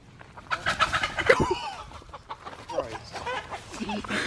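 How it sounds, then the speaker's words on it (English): A chicken clucks in short, uneven bursts close by outdoors, with scuffling and movement around it and a brief louder squawk partway through. "the chicken's right there"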